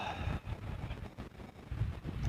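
Wind blows on a breakwater during rainy-day fishing, a gusty rumble buffeting the microphone in uneven surges for a couple of seconds, with no talk.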